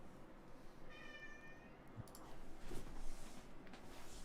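A pet cat meows once, a clear drawn-out cry indoors, followed by faint bumps and rustling at a low level.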